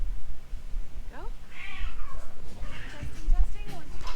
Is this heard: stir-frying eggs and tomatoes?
no